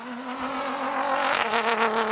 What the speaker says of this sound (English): You can hear his 6-speed sequential going through the gears